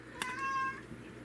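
A cat lets out a single drawn-out meow, clear and fairly close, against a quiet room background.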